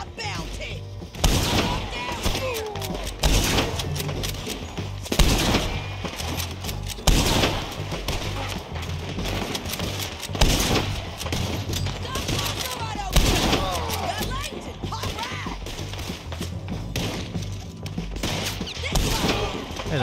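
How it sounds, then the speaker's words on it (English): Rapid gunfire from a Red Dead Redemption 2 shootout cracks out in repeated bursts and single shots throughout, mixed with game sound and occasional talk. "where are we getting shot from here?"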